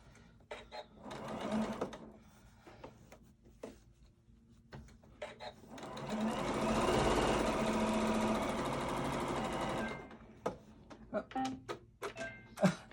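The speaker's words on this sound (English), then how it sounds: "And now I'm going to sew this seam." A sewing machine runs a continuous stitching burst while sewing a seam on a fabric face mask, preceded and followed by clicks and handling noises, close and moderately quiet.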